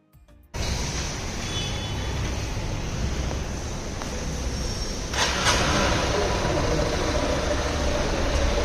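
A 2024 Honda SP 160 motorcycle starts abruptly after a short silence and then runs in a steady close-up idle, growing a little louder partway through.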